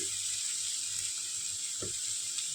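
Capsicum, cabbage and carrot sauté in two or three spoons of oil in a kadhai, giving a steady, close sizzling hiss with a few faint clinks.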